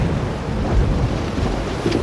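A thunderstorm on a mountain ridge churns with a continuous low rumble and wind buffeting the microphone, a dense, steady roar with no voices.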